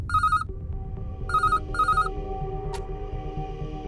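A telephone rings in a movie, three short electronic trilling bursts, near and loud, over a low background rumble.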